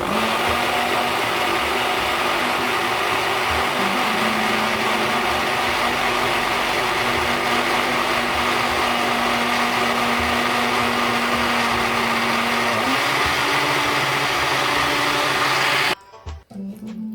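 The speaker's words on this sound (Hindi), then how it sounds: "सबसे पहले मैं ब्लेंडर में पुदीना डालूंगी," A blender runs continuously at high speed blending mint leaves with water, whirring loudly with a steady motor drone, then cuts off abruptly near the end.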